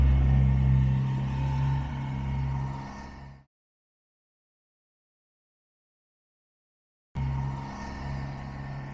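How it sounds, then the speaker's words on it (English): Work trucks rumble past in the background with a loud, steady low engine drone, cut by several seconds of total silence before the heavy rumble returns. "I have work trucks passing by in the background."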